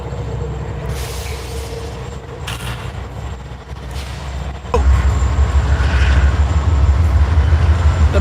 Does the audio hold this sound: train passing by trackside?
yes